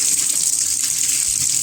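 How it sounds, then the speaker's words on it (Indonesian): Tap water runs steadily onto a Miyako wall fan part being rinsed, a continuous loud splashing hiss with no break and no talking. "Itulah lebih enaknya kalau pakai air mengalir ya."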